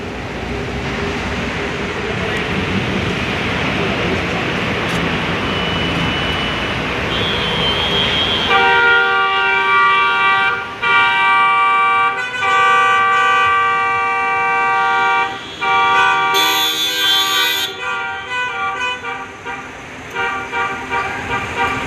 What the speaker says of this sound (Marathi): हे आणीवाडी टोल नाका